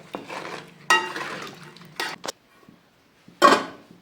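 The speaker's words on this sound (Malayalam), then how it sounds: "ഇനി ഇത് നന്നായിട്ടൊന്ന് മിക്സ് ചെയ്തെടുക്കാം" A spoon stirs manthal fish curry in a pan, making a few loud, separate scraping and clinking bursts with quiet gaps between them.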